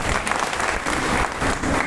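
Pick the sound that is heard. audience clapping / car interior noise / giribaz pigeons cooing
audience clapping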